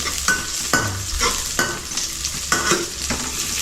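Hot oil sizzles and spits in a frying pan, a steady crackling hiss broken by sharp pops and scraping stirs at close range, with no voices.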